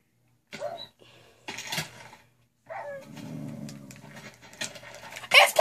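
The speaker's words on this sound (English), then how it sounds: "There's a dog here." A dog close by pants, snuffles and lets out short sneeze-like huffs in irregular bursts with quiet gaps between them, and no voices are heard.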